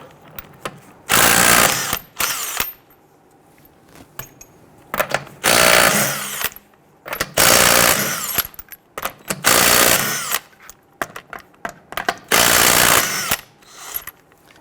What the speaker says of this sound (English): Using a 21mm socket, go ahead and loosen and remove your lug nuts.